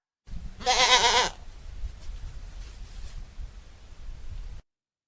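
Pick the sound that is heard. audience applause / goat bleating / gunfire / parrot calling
goat bleating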